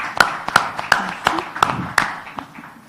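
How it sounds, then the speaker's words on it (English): A few sparse claps for Sarah and G-Star Raw at a Blue Sign event, about six distinct slaps spaced evenly, fairly close and moderately loud, with faint voices in the background. "just another round of applause for Sarah and G-Star Raw"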